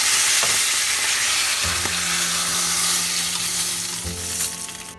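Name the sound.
pomfret fish frying in mustard oil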